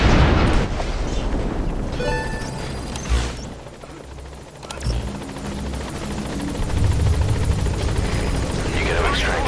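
The support helicopter Pequod in Metal Gear Solid 5: The Phantom Pain roars with a loud, dense rotor thrum throughout, punctuated by gunfire and explosion-like booms, with voices talking over the din.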